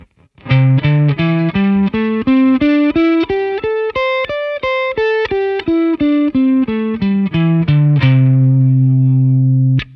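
A distorted electric guitar plays a quick run of single notes up and then back down a pentatonic scale, ending on a sustained note.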